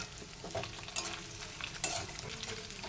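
Steady sizzling of dried fish frying in a pan, with a utensil scraping and stirring at intervals, close and continuous.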